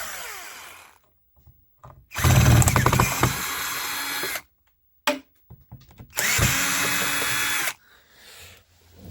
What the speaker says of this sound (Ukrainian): Для того, щоб зняти нам задній, нам потрібно відкрутити оцю ось заглушку наружну. Вона кріпиться на три саморіза.